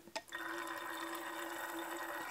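Water pours steadily into a cup being readied for mixing acrylic paint for a Dutch pour, a continuous close trickle after a brief splash at the start, with no talking.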